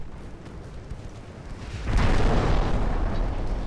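Torpedo hit explosion in a naval combat video game: a low rumbling boom swells up midway through the clip and sustains loudly after a quieter steady background, with no talk.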